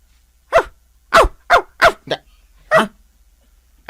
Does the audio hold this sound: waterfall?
no